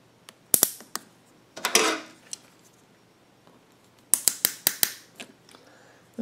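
A hose clamp is fitted onto a generator fuel hose, heard as a series of sharp metallic clicks and ratcheting snaps in two bursts with quiet gaps between, close up.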